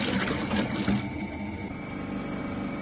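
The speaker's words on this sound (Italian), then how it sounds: "il compressore riparte" An ice cream machine's compressor kicking back on, a dense mechanical hum and whirring rattle with a steady drone underneath, close and continuous with no talking.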